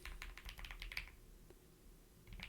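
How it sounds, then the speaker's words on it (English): Computer keyboard keys tapped in a quick burst of close, crisp clicks for about a second, then a pause and a few scattered keystrokes, with no talking. "Just type that in."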